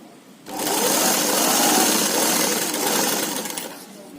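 A sewing machine runs steadily as it stitches the folded frill of a pillow cover, a loud continuous whirring hum starting after a short pause and slowing slightly near the end.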